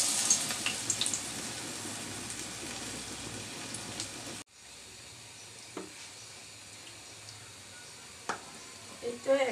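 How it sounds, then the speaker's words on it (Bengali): Rounds of raw cabbage pakora batter sizzle and bubble in hot oil, steady and close at first, then softer after a sudden drop, with faint spatters and small clinks. "পরিমাণ মতো তেল গরম করে নিয়েছি। এবার ছোটো ছোটো গোল গোল করে শেপ করে দিয়ে দিচ্ছি।"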